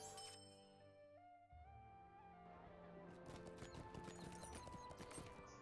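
Horse hooves clip-clop in the Lord of the Rings Online video game, quick rhythmic steps under layered festive game music, faint overall.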